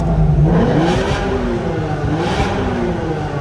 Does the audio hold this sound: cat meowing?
no